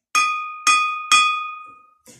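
A glass bottle of water is struck three times in a steady rhythm, each strike ringing out with a clear bell-like tone that decays slowly, then a faint fourth tap.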